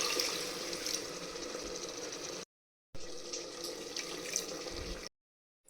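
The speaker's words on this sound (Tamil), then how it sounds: "இந்த ஸ்டேஜில் நம்ம வந்து 2 cups வாட்டர் ஆட் பண்ணிக்கலாம்." Water pours steadily into a pot while chicken donne biryani is cooked, a close splashing stream in two bursts separated by short gaps of silence.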